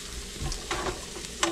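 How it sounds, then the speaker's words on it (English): Cheesy chicken broccoli rice gets stirred in a hot pan, with quiet sizzling and soft scraping strokes heard close up over a brief moment. "Stir that all together."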